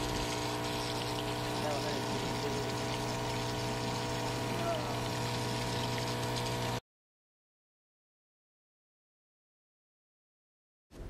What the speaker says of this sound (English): Then water will come out from the nozzle.